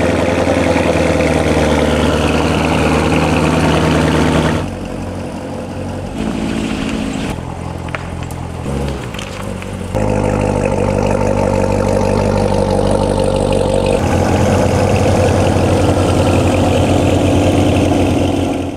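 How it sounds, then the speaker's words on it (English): A 2020 Chevrolet Corvette C8 convertible and a 2015 Corvette C7 Z06 are cold started, giving a loud, close idling rumble that drops to a quieter stretch midway, then returns to a full steady roar. "Let's go ahead and start this video off with a cold start. 2020 Chevrolet C8 convertible. 2015 C7 Z06."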